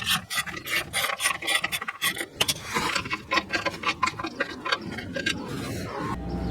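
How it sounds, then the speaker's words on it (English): A ratchet turns a 10 mm socket to remove the bolt holding the oxygen sensor mount under a Toyota Corolla, giving rapid rasping clicks in short bursts with brief pauses. It sounds close and fairly loud. "we need to use a 10 millimeter socket and remove this bolt that holds the oxygen sensor mount in place"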